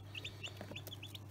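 Newly hatched Bresse chicks in an incubator give soft, high peeping chirps in quick irregular bursts over a steady low machine hum.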